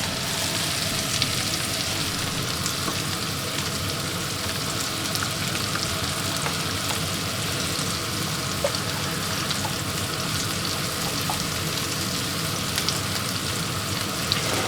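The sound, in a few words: peanut red curry sauce boiling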